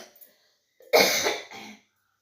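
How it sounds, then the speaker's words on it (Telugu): A single harsh cough from a person with a cold bursts out close and loud after a short, quiet pause, then fades into a brief throaty tail. "మధ్యలో మధ్యలో కొంచెం దగ్గు వస్తూ ఉంది వాయిస్ ఇస్తుంటే"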